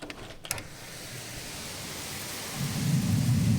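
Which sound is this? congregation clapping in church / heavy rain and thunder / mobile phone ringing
heavy rain and thunder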